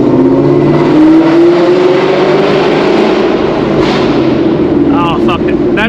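A catless E85-fuelled Gen 3 Mustang GT V8 accelerating hard at night, heard from inside as a loud, rising engine roar that holds for several seconds before shifting, with no talking.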